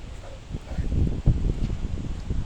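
Outdoor wind picks up, rumbling as low gusty buffeting against the microphone with faint rustling, continuous for a couple of seconds.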